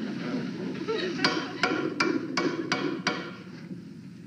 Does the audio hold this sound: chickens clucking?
no